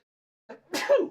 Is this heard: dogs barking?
no